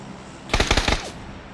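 Gunfire in the video game PUBG: a rapid burst of about five loud, close shots in under half a second, then quiet background with no talking.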